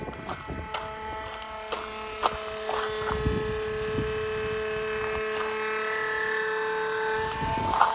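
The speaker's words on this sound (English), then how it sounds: "The pump is still pumping." An RV macerator pump runs with a steady electric whine, while fainter clicks and knocks come and go over it.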